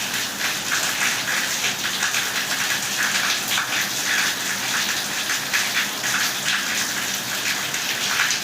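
Heavy rain pounds down in a steady, loud, dense roar of large drops hitting surfaces, with no let-up.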